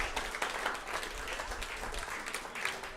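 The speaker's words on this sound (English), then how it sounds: "give these folks a big round of applause" Audience at The Station Inn music venue in Nashville clapping after a live country band set, giving steady, dense applause from a small crowd throughout.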